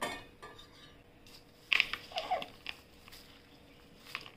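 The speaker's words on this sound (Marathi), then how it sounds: "आता छान हलवून घेऊया." A spoon scrapes and clinks against a pan while beaten rice (poha) is stirred, a few sharp metallic taps and scrapes clustered in the middle over a quiet background.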